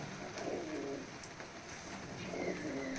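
Teddy pigeons coo in a loft in Mathurapur, with soft, low, rolling calls repeating faintly over a quiet background hiss.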